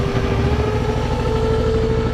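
A turbocharged Honda Pioneer 500 engine idles loud and close, its rapid, even chugging pulse steady throughout with a faint whine above it.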